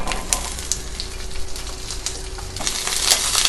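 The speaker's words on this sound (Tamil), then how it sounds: "ரொம்ப வதக்காதீங்க, ஒரு 3 நிமிஷம் வதக்கினா போதும்." Onions sauté briefly in a pan for chilli fish, giving a close, even hiss of frying with a few light clinks from stirring.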